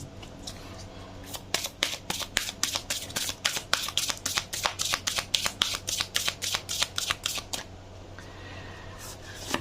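Tarot cards are shuffled by hand in a rapid, even run of crisp riffling snaps lasting several seconds. The snaps are close and distinct, then stop into a quieter handling rustle.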